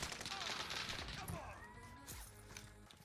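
Bursts of rapid gunfire in the Warzone video game, several sharp volleys and single cracks in quick succession at moderate distance, with players talking over the shots.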